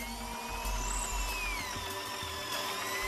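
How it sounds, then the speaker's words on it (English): A hammer drill bores into hard rock at a cave entrance in Tibet, grinding steadily with a constant whine and a dense rattling hum for the full length, close and loud. "Do you have the hammer drill function on, too, by the way?"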